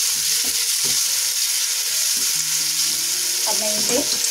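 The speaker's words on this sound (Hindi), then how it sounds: "एक साइड में मैं टमाटर डाल दूंगी। और अब मैं इसमें ये नमक और काली मिर्च और हरी मिर्च इसके अंदर ऐड कर दूंगी।" Tomatoes sizzle steadily in a hot pan with salt, black pepper and green chili for a Navratri fasting dish, a close, even frying hiss with a few soft stirring knocks.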